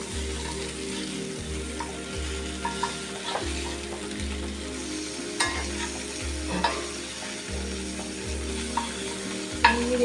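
Prawns frying in a pan with a steady sizzle, broken by a regular series of low, rhythmic scraping stirs about every second, close and moderately loud with no talking.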